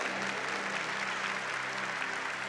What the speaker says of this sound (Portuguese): Quem não tem vai aplaudir.